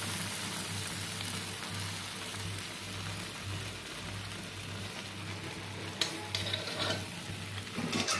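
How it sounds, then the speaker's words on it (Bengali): Chana dal stirred and fried in ghee for a halwa, producing a steady rain-like sizzle over a low hum, with sharper scraping strokes toward the end. "তো এইভাবে একটু নেড়ে ভালো করে নেড়ে ডালের গন্ধ যাওয়া পর্যন্ত নাড়তে থাকতে হবে।"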